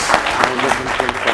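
Audience applause for a quiz team on a televised school quiz show, a steady patter of clapping with voices and cheers layered through it, moderately loud and close.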